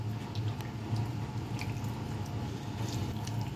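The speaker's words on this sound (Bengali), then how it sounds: "তন্দুরি মশলাটা দিয়ে এখন আমি ভালো করে মিক্স করে নিচ্ছি।" Chicken being mixed by hand with tandoori masala gives a close, continuous wet squishing and squelching, soft and steady without pauses.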